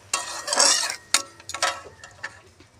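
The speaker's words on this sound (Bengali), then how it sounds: "নেড়ে চেড়ে ভালো করে পেঁয়াজের সঙ্গে মিশিয়ে নিই" Spices stirred with onions in a pan for a sim sorshe vegetable dish, heard as a handful of close, sharp scraping and clinking strokes at an uneven rhythm, with quiet gaps between them.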